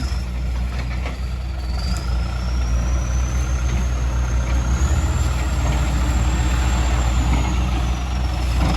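A John Deere 5076E tractor's large 4,500 cc diesel engine running steadily while clearing brush, with a deep, loud rumble, joined by a faint high whine that slowly rises and falls.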